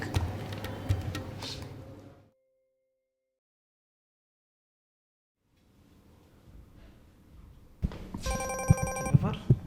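A telephone rings in an office at the end of the clip, an electronic ringtone with repeated tones after quieter background sounds and a silent gap.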